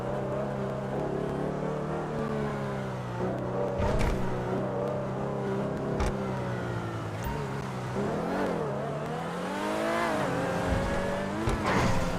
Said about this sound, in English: This is a very nice supercar, by the way.